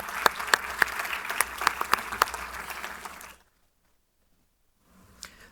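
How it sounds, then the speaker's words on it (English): Audience applause at a broadcasting conference, a dense burst of clapping with sharp individual claps that runs loud for about three seconds, stops abruptly into silence, then a brief faint clap-like sound near the end. "please give him a huge round of applause"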